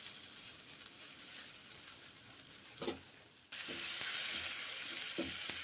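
Semolina frying in a pan with pepper powder hisses softly while being stirred, then a splash of water hits it and the sizzle jumps to a louder, steady hiss punctuated by a few stirring scrapes.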